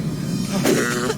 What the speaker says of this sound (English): Was that a cough?